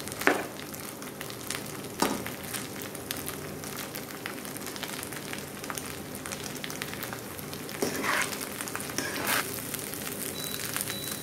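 Parboiled rice stirred into frying chicken for Afghani biryani, a strong continuous crackling sizzle with occasional scraping strokes through the grains, close and steady with no voices.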